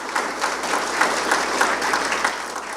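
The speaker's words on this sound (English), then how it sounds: "I just want to ask again for a round of applause for Matt Holzaffel and the entire engineerin" Attendees at a public input meeting on Skyline Drive applaud the engineering team, a brief, even burst of many hands clapping in a hall.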